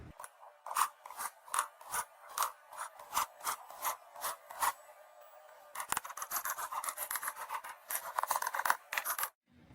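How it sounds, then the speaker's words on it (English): A knife cutting half an onion on a board: a rapid run of crisp, close chopping strokes in a steady rhythm, then a denser burst of quicker cuts before stopping. "First, you need to cut up half an onion."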